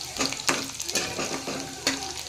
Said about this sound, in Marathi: नंतर मग कांदा टाकूया.